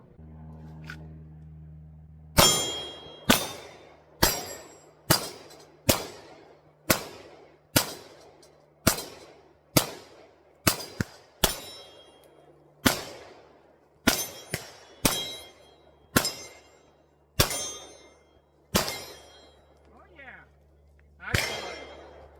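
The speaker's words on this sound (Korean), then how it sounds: "이젠 드림랜드에 가서 진실한 사격을 해보죠" CZ P10F pistol fired at a shooting range: about eighteen sharp, close reports at a fairly steady pace, with a few quick pairs and a short ringing decay after each shot.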